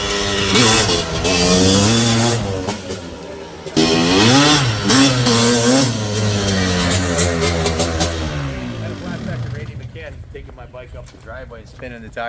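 A 1980 Kawasaki KX420 big bore motorcycle engine runs loud and close, its steady throaty drone rising and falling with revs while people talk over it.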